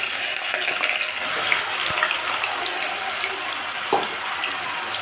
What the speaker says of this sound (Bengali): তেলটা আমার গরম হয়ে গেছে তেলের মধ্যে আমি পেঁয়াজ বাটাটা দিয়ে দিচ্ছি